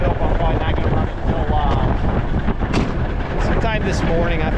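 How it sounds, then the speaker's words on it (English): Strong wind buffets the microphone in loud, continuous rumbling gusts from start to finish, with brief faint higher tones showing through near the end. "I'm tired of the wind, man. It's super windy."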